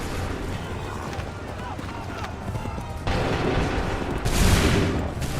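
Soldiers' musket volleys in Assassin's Creed 3, a sustained crackle of battle gunfire that swells into a louder burst near the end, with shouting voices and hoofbeat-like thumps in the mix.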